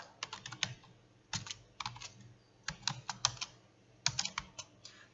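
Code being typed on a computer keyboard: quiet, close clicky keystrokes in quick irregular bursts separated by short pauses, with no talking.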